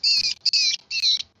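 Birds give repeated loud, high chirps in three or four close bursts with a short break between each, clear and near, with no talking over them.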